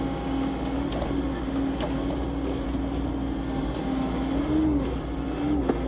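An excavator perched atop a stockpile works its bucket into the material, its diesel engine droning steadily and close with a faint whine, scattered clunks and scrapes over the continuous rumble.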